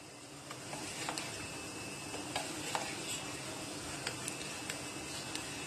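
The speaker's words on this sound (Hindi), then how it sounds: "हम इसको कंटिन्यूअसली चला रहे हैं और सेम पोजीशन में चला रहे हैं।" Choco lava cake batter being stirred continuously in the same spot for an eggless biscuit lava cake, a quiet steady scraping with light rhythmic ticks and clicks from the utensil against the bowl.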